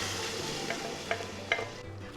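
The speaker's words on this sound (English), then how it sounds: "So we'll just give this a stir, and I'm going to add in the dal." A spoon stirs fresh ground masala in a hot pan, a steady low sizzle with three or four soft scraping knocks spaced through a couple of seconds, close and alone.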